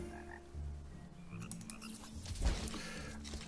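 Frogs croak in the Minecraft video game, several throaty croaks rising over a steady low game-ambience hum, moderately loud and close with no talking.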